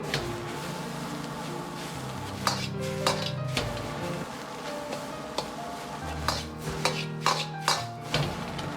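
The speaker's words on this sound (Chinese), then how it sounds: "继续保持中火翻炒均匀" Chili peppers and eggs stir-fried in a wok over medium heat, with a spatula scraping and clanking against the metal in irregular strikes over a soft background sizzle.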